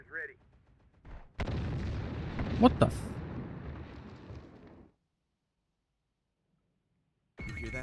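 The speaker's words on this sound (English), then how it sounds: "You hear that? Gunfire." Weapon fire in the video game Terminator: Dark Fate Defiance, a loud sustained burst of booming gunfire lasting a few seconds, with a brief exclamation from a voice before it and quiet afterward.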